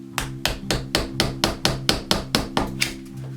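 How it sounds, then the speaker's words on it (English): A hammer chips at the edge of a wall opening in rapid, evenly spaced sharp strikes, about a dozen close, loud blows in a steady rhythm. "I'm gonna do is take my hammer and I'm gonna start chipping away"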